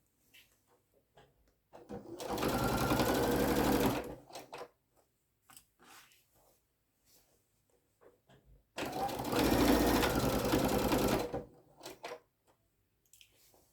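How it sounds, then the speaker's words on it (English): Stitching a welding cap in the round, a sewing machine runs in two separate bursts of quick mechanical rattling, with quiet pauses between them filled by small clicks and fabric handling. "That allows you to keep a nice straight line while you're sewing in the round."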